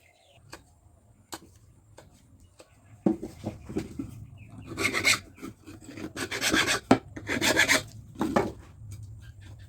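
A hacksaw cuts a notch around a piece of bamboo with faint scattered taps, then bursts of close, rasping back-and-forth strokes that grow louder and come in short rhythmic runs.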